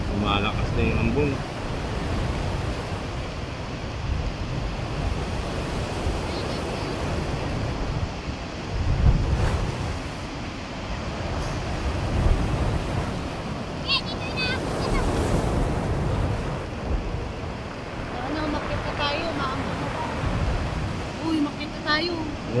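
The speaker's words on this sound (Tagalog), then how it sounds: "Lakas ang alon, oh. Dagat ng Umiray, Dingalan, Aurora." Strong sea waves at Umiray, Dingalan, Aurora, in drizzly weather, crashing and rolling in a continuous loud roar with gusty wind buffeting the microphone throughout.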